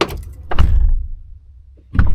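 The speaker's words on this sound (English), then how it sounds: "listen to how like sound deadened it is when I close this door" A pickup truck door with sound-deadening fitted swings shut from the inside, giving two dull, muffled thumps about a second and a half apart, close by and without hollow ring.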